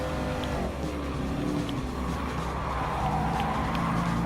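A 2009 Porsche 911 GT3 race car engine in Gran Turismo Sport, during a custom race: a sustained, loud engine drone holds steady at a constant pitch, with faint tire noise and no talking.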